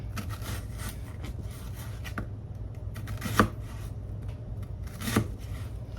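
Onion being chopped for fajitas: a few sparse, crisp knife strikes on a board, spaced seconds apart, over a steady low kitchen hum, with no talking.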